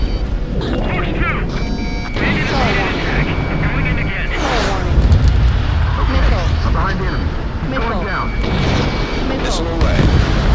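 Missiles launching and exploding in the Ace Combat 7: Skies Unknown flight combat game, a dense, loud roar of jet engine noise with repeated whooshes and booms, while radio voices call out continuously over the action.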